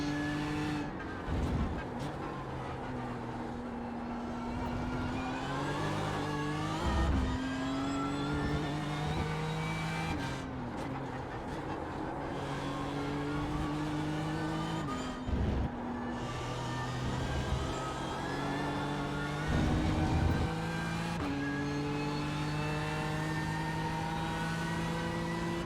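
GT3 race cars lapping Hockenheim in iRacing, engines droning steadily with rising and falling pitch through gear shifts, tires squealing and scrabbling in corners, continuous and loud for the whole stretch.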